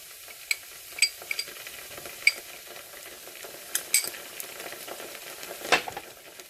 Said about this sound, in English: And then I will be adding in my ginger and garlic